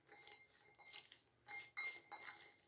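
Spiced roasted cashews and almonds tossed together in a bowl, faint rattling and clinking of nuts and spoon against the dish in short uneven bursts, quiet and close.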